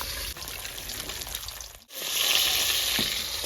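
Pieces of rohu fish fry in oil until deep red and crisp, making a loud, continuous close sizzle that dips briefly, then swells again as a stronger hiss.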